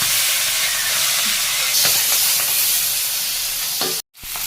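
Fish coated in turmeric, chili and salt fries in hot oil, a loud, steady sizzle and hiss close by with a few crackling spits, broken by a sudden brief drop near the end.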